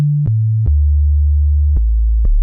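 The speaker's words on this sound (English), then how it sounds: "It's just this, a sine wave basically." A deep, pure sine tone sustains and steps down in pitch a few times, each change marked by a soft click, loud and alone.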